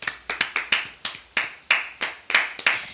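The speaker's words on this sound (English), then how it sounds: "when we clap and I hear like other clapping in the background" Hands clap close to the mic in a quick, uneven run of about fifteen sharp claps that keep going for a few seconds, with no talk over them.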